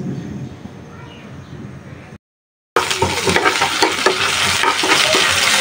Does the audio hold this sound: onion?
yes